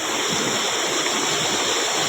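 Water rushes steadily past during rainy weather in a village setting, a dense, loud, continuous wash of broadband noise close by with no voices.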